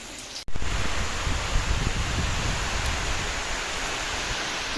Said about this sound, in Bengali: এখন ঝিরঝির ঝিরঝির করে বৃষ্টি পড়ছে